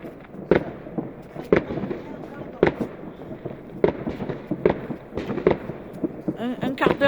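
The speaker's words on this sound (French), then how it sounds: "Ça fait 11 minutes de feu d'artifice." Fireworks and firecrackers burst at midnight on New Year's in France, sharp repeated bangs and pops coming at irregular intervals over a steady crackling background, with people talking nearby.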